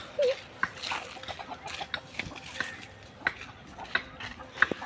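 Chickens and a rooster around a village yard beside fields, soft scattered clucks and short calls at moderate distance over faint outdoor background.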